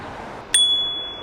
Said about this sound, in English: Oh, our bell is pretty loud.